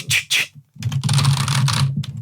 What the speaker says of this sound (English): You hear like someone typing really loud on a mechanical typewriter.